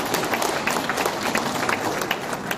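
An audience at a New Year business networking gathering in Gumi gives a round of applause, with dense, steady clapping at close range that holds at an even level throughout.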